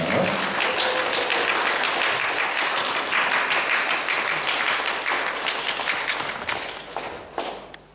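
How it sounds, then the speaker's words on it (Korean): Church congregation applause at a Sunday worship service: dense clapping from many people filling a large room, loud at first and tapering off toward the end. "뜨거운 박수로 환영해 주시기 바랍니다"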